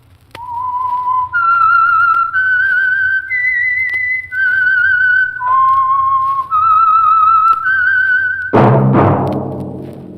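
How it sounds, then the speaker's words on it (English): A lone whistler carries the eerie, slow theme melody of The Whistler, a 1940s radio mystery program, through a series of sustained, wavering notes that step up and down in pitch, loud and close, ending as a brighter sound cuts in. "That whistle is your signal for the Signal Oil Program, The Whistler."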